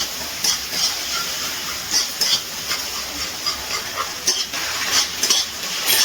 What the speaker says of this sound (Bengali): আদা আর রাঁধুনি বাটাটা একটুখানি ভালো করে তেলে কষিয়ে নিচ্ছি